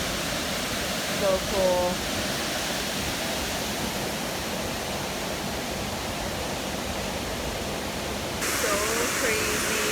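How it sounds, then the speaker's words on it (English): A loud waterfall roars steadily and without pause, with people briefly talking over the constant rush of falling water. "This is like the craziest, biggest, loudest waterfall."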